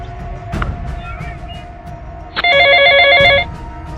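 A telephone bell rings once in a short loud burst of about a second, close by, after a quiet stretch with faint background sounds and no talk.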